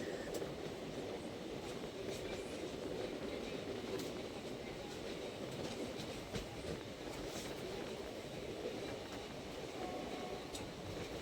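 A train on the line from Tamil Nadu to Chalakudy, Kerala rolls steadily along the tracks, a continuous rumbling roar with faint rhythmic clatter of wheels throughout, close and loud.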